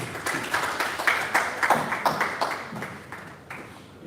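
An audience at a facility management conference in Nigeria applauds with steady, fairly loud clapping that thins out and fades toward the end.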